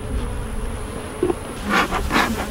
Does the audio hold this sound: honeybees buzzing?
yes